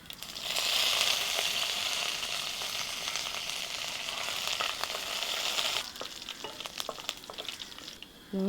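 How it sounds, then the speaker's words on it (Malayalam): Mustard seeds splutter in hot sesame oil in a heated pan for grape pickle, making a loud, continuous crackling sizzle that eases slightly toward the end, with no talking. "ആദ്യം എണ്ണ ഒഴിച്ച് കടുക് പൊട്ടിക്കാം."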